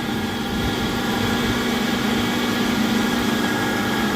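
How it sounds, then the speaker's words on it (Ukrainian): An electric motor turns the pulley of a homemade straw-fired grain dryer drying sorghum; the motor struggles to start. A steady, continuous mechanical hum with a constant tonal drone fills the clip, close and even, with no voices. "Вон шків крутиться, а цей мотор поміняємо, мощніший поставимо, бо запускатися важко йому."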